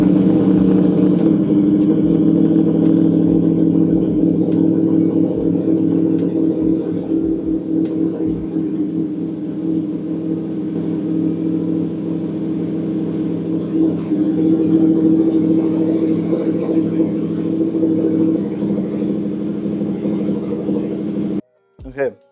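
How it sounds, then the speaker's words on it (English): A motorcycle engine runs at a steady low idle throughout, close and loud, then cuts off abruptly near the end. "We're gonna turn on the bike."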